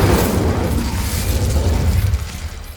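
An Incendio fire spell cast in Hogwarts Legacy erupts as a loud, dense whooshing burst of flame, sustained roaring crackle with low booming body, close and unbroken, no voices.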